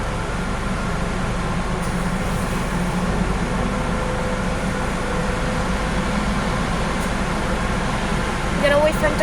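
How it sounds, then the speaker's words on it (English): Car wash air blowers roar in a steady, loud broadband rush at a hand car wash, heard from inside the car, with people talking briefly over it. "Oh, do you hear the blowers?"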